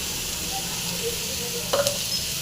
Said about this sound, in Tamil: இந்த தக்காளி வந்து நல்லா ஃப்ரை ஆகட்டும்